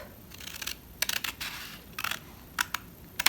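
A paper sheet being cut with scissors, several short crisp snips in quick bursts with brief pauses between them, close and fairly loud, no talking.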